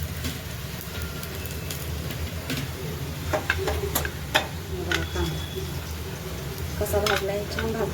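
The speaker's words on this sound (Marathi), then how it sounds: "खोबरं भाजून घेते मस्त लालसर लालसर" Grated coconut roasting in a pan until reddish brown, for a spicy mutton curry masala: a soft, steady sizzle and hum with scattered spatula scrapes and light clinks, growing busier toward the end.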